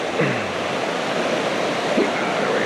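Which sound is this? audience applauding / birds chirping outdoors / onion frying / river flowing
river flowing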